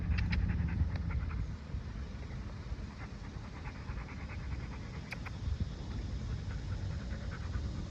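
A dog pants steadily and close by, a fast breathy rhythm continuing for several seconds with faint background noise and no voices.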